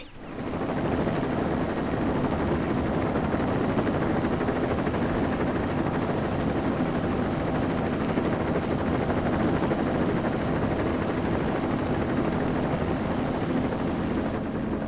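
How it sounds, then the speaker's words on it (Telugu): A helicopter arriving, its rotor and engine producing a loud, unbroken whirring drone that stays close and steady for the whole stretch, with no voices over it. "హెలికాప్టర్ వచ్చింది"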